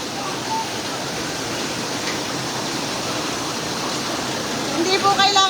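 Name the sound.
rushing typhoon flood water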